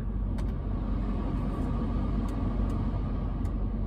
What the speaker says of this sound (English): I'll show you guys kind of just rolling through the gears up to freeway speed